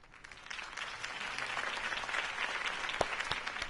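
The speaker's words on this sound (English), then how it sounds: "If only Mr. Wayne, my campaign's largest backer, could have heard that applause" Crowd applause in a Batman video game swells and continues steadily, a dense wash of many hands clapping at moderate distance, with one slightly louder clap near the end.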